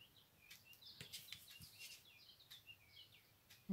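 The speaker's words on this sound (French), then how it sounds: "Les oiseaux chantent." Birds sing outdoors, faint chirps and trills scattered across a few seconds in a quiet setting, with a brief louder knock right at the end.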